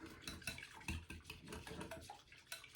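Spoon stirring apple cinnamon chia pudding in a bowl, with faint repeated clinks and scrapes in a quiet, steady rhythm throughout.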